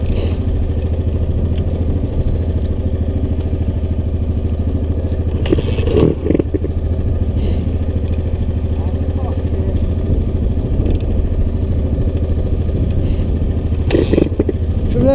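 Motorcycle engine running at a steady, loud idle with a constant low throb and occasional clatter and scrapes, while people talk close by.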